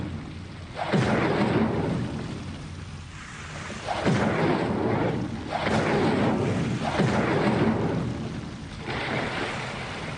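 Incendio fire spell cast repeatedly in Hogwarts Legacy, heard as roaring, rumbling whooshes of flame that swell and fade in a steady rhythm about every second and a half.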